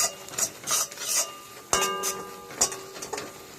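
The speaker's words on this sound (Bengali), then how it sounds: "ভালো করে এটাকে মশলার সঙ্গে মিশিয়ে নেব।" Ground coriander and cumin being stirred into mrigel fish curry masala in a pan, with rough scraping strokes and a few sharp metallic knocks of the spatula, close and fairly loud.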